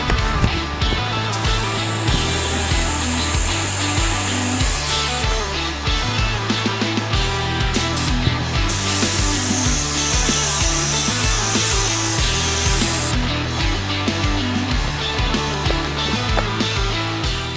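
A spray gun lays a fine texture coating onto a spray-out test card while matching rock and chip guard finishes, giving two long, bright hissing bursts over a steady background of tools and tones.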